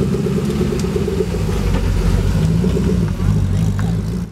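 A car engine drones steadily at close range while driving on the Nordkapp Challenge road trip, a continuous low rumble that swells slightly as the car accelerates, with no talk over it.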